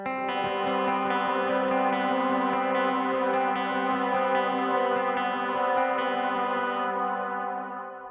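Electric guitar chords ring out through a dotted eighth-note delay with reverb, repeats trailing smoothly behind each strum and fading at the end, played alone with no voice.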